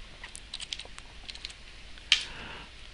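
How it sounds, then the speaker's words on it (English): A computer keyboard is typed on in a short, light burst of close clicks, ending with one sharper keystroke, in a quiet room. "You can type, is there staff?"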